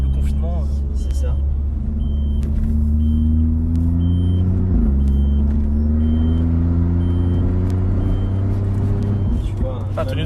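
A Brabus car accelerates along a four-lane road, its engine rumble rising steadily in pitch as it climbs through the gears, heard from inside the cabin with a brief dip at a gear change and people talking.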